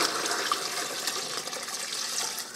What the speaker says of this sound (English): I'm going to put it in there, and I am going to fill it with water